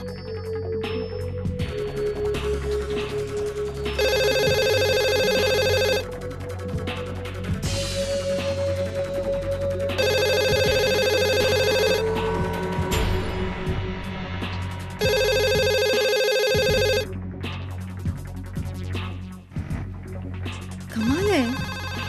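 A telephone rings in repeated bursts of an electronic ringtone over a steady background music bed in a Marathi TV serial scene, the rings loud and close with short pauses between them and no one speaking.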